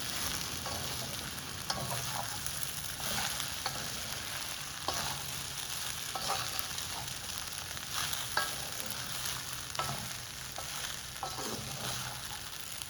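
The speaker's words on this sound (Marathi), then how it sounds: "अगदी लो फ्लेम किंवा मीडियम फ्लेमवर आपण ह्याला शिजू दे" Sabudana cooking with mixed vegetables in a pan over low to medium flame, a steady sizzle and frying hiss running throughout with occasional soft scrapes and clicks of a spoon stirring, no voices.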